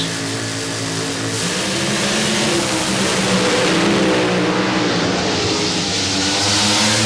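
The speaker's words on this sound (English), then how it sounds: "Oh, what a great drag race." Drag racing cars at a Lucas Oil Racing Series event in Houston, Texas roar down the track, a loud sustained engine howl that builds and rises in pitch as they accelerate, with no talk over it.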